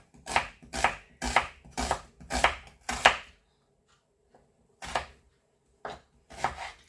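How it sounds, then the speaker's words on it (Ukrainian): A knife chops onion on a board for the fried base of a red borscht: six quick, evenly spaced chops close by, a pause, then three more scattered cuts. "нарізаємо цибулю на засмажку"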